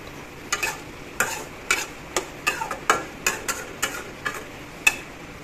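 Spoon stirring pumpkin with dry fish in a cooking pan, a dozen or so sharp scraping clacks in an irregular rhythm, close and fairly loud, with no speech.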